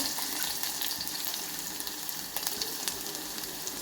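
Small shallots fry in hot oil with mustard seeds for a drumstick leaf curry, giving a steady, close hiss with occasional light crackles and no voices.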